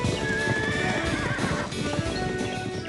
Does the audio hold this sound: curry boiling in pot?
no